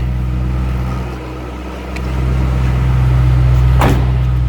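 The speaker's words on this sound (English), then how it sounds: "Hear that center dump exhaust. Nice little rumble to it." A supercharged 2005 Ford Mustang Saleen S281 convertible idles from behind, its center dump exhaust giving a steady low rumble that swells slightly midway, with a brief faint click-like sound near the end.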